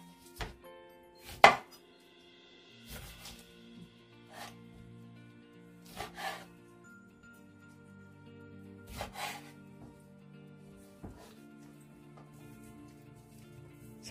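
Knife slicing quartered lemon pieces on a cutting board, a few sharp, separated cuts spread out at irregular intervals over soft background music.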